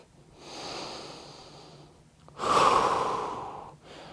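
Slow, deep yoga breathing during a full-body men's flow session: a soft, drawn-out inhale followed by a louder, longer exhale, close to the microphone with no talking.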